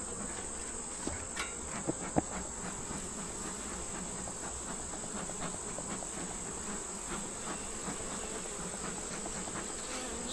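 A soft, steady buzzing drone of many honeybees in an opened hive, with scattered faint clicks and taps close by, no talking.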